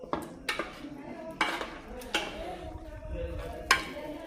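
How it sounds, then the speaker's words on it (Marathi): A spoon stirring country chicken curry in a metal pot outdoors, with several distinct scraping clinks against the pot at irregular intervals over a low background. "थोडंसं हलवून घेऊ परत एकदा"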